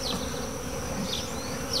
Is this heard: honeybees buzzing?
yes